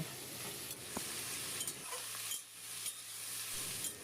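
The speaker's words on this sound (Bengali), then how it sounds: "গ্যাসটা হাই ফ্লেমে করে আলু আর বেগুনটা ভেজে নেব" Cubed potatoes and eggplant frying in oil over a high gas flame, a steady faint sizzle with occasional stirring clinks, no talk.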